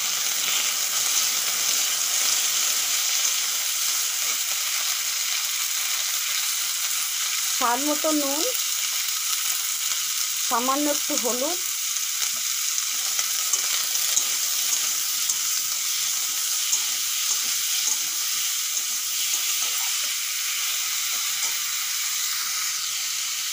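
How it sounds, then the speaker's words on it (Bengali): Chopped tomatoes fry in a pan for tomato chutney, giving off a steady, even sizzle and hiss that runs throughout. Someone speaks briefly over the cooking. "টমেটো ওদিকে ভাজা হচ্ছে"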